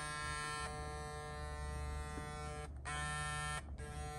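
A barber's cordless hair clipper runs steadily and close, a loud even buzz with a strong hum, cutting out briefly twice before restarting; no talking.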